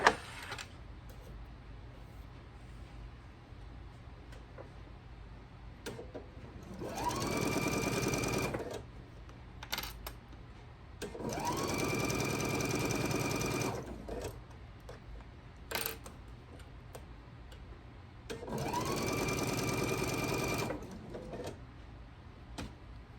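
A sewing machine runs a scant quarter-inch seam on a quilt block in three separate bursts of rapid, even stitching, each lasting a couple of seconds, with quiet handling sounds in the pauses between.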